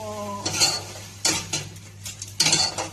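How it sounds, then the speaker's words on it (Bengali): Jackfruit and salt are sautéed and stirred in a pan, with three distinct bursts of close scraping and clinking from the spatula over a low frying sizzle and no speech. "আর দিয়ে দিব লবণ। দিয়ে ভালো করে কষাবো।"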